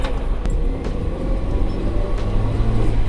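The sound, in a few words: Toyota Kijang Kapsul LSX 2003 car engine climbing an incline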